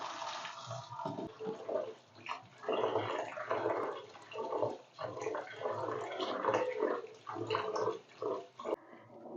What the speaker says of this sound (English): We have finished washing the beans.